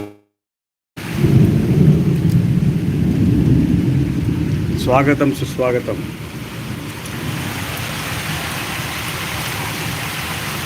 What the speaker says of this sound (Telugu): కమనీయం నయనానందకరం శ్రవణానందకరం ఈ వర్షం అద్భుతం